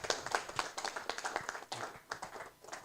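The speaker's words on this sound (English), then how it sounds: "Another round of applause for Professor Patricio." A conference audience at a medical education event claps after a presentation, a fairly faint spatter of individual hand claps with an uneven rhythm, thinning toward the end.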